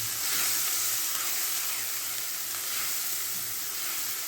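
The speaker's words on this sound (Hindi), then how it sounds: "3 से 4 मिनट इसको फ्राई करते हैं ताकि प्याज का कच्चापन दूर हो जाए।" Onion puree frying in a pan for a chicken makhani handi, a steady, even hiss of sizzling close by, without any talk.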